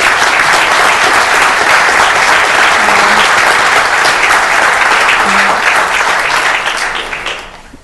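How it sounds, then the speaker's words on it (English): A city council meeting room fills with loud, sustained applause for students who won martial arts medals, holding strong for several seconds before fading out at the end. "So let's give them a round of applause."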